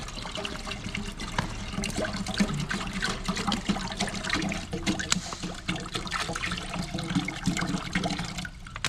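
Water runs steadily into a cooking pot for making salted eggs, a continuous close splashing pour that lasts throughout with no talk.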